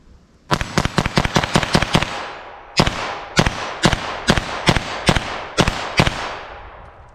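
.22 LR pistol fired rapidly outdoors, about fifteen sharp, loud cracks in two quick strings with a short pause between them and a brief ringing tail after each shot.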